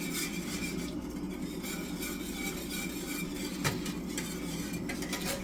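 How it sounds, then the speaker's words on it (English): Hot carob chocolate milk being stirred in a pan on the stove, a steady continuous scraping and swirling with a faint sizzle, close and even throughout with no talking. "But you do want to constantly stir it"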